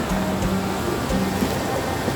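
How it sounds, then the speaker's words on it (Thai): Mae Klang waterfall in Chom Thong, Chiang Mai, heard as a steady, loud, broad rush of falling water that fills the whole clip without a break. "นั่งกินข้างน้ำตกเนาะ น้ำตกแม่กลาง"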